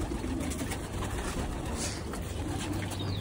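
Green doubaaz pigeons in a collection give soft, low cooing that carries steadily through the whole stretch, close by, with no talking over it.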